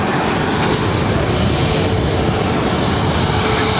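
Southwest Boeing 737 MAX 8 airliner at LAX, a loud continuous engine roar with broad rushing noise, steady and close throughout.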